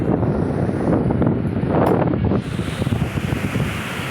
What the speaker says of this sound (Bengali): দেখো গাইস সেই লেভেলে ঢেউ